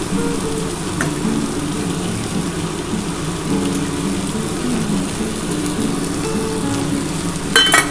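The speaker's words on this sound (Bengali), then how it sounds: "এর মধ্যে মাছের তেলটা দিয়ে দেবো দিয়ে ভালো করে ভাজা ভাজা করে" Ridge gourd fries in fish oil in a pan, a loud, continuous rain-like sizzle that holds steady for several seconds before a brief scraping clatter near the end.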